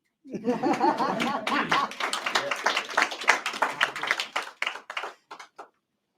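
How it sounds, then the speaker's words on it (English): At a press conference, a small group claps with distinct, uneven hand claps and scattered voices and light laughter mixed in, fading to a few last claps. "You can clap."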